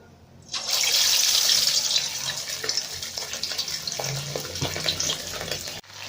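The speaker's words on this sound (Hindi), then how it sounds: "हम इसमें अब चिकन करेंगे फ्राई" Marinated chicken for Hyderabadi chicken karahi hits hot oil with a sudden loud hiss that settles into a steady close sizzle with light spatters and crackles.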